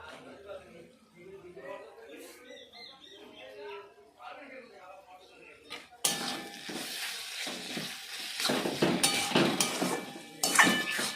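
Spice masala with ground garlic paste fries in a pan over low gas, starting with talking over quiet background and then a crackling sizzle with scraping stirs while the voice continues.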